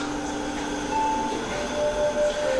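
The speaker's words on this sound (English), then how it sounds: "It sounds like wind." Low, steady whooshing wind sound effect with faint whistling tones drifting over it, a continuous airy rumble swelling slightly toward the end, heard alone without talk.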